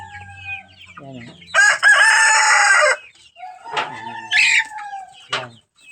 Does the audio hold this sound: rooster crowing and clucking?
yes